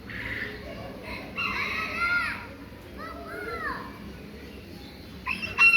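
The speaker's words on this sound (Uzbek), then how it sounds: "Yapon xo'rozchalari, tovuqchalari." Japanese bantam roosters and hens crow and cluck in a busy poultry yard, short rising calls breaking out repeatedly amid children's voices and general background chatter.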